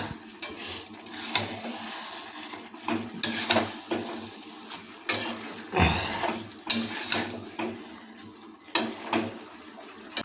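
Fried mixed vegetables and fish head stirred into spices in a pan, with scraping spatula strokes and light clinks in an irregular rhythm, a faint sizzle underneath, close and moderately loud with no talk.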